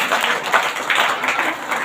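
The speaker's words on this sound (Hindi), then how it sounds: "आप लोग तेज ताली के साथ परमेश्वर को धन्यवाद दीजिए" A church congregation at a prayer meeting claps in steady applause, many hands together in a continuous moderately loud patter.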